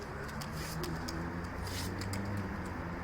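Pigeons at a live pigeon auction, game birds held for training, coo softly and repeatedly close by over a constant low background hum, with no talking.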